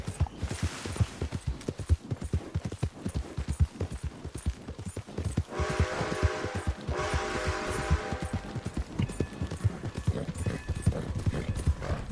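Horse hooves clip-clop in steady rhythm across a Red Dead Redemption 2 game scene on PS4, fairly close and continuous, with a brief swell of other game sounds midway.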